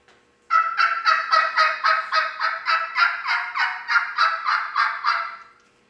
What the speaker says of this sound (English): you can change the sound of the yelp.